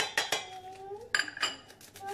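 Dry salt and yeast being stirred together in a bowl, giving a few light clinks and scrapes of a utensil against the dish over about two seconds, close and fairly quiet.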